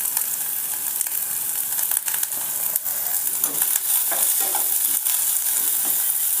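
Garlic, onion and curry leaves fry in a hot pan for a beetroot poriyal, giving a steady, close sizzle with occasional stirring scrapes and no talk.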